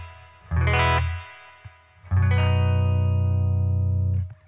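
Clean electric guitar chords ring out twice, played through a clean tone: a short strum that fades, then a longer sustained chord held before it stops.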